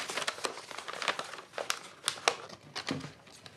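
Paper sewing pattern rustles and crinkles as a dart is folded, close and fairly quiet, in a quick series of crisp crackling handling bursts.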